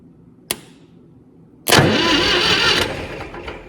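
A hot-wired tractor engine cranks over: a sharp click, a pause, then a loud sustained churn of the starter that fades out after about a second and a half, close by.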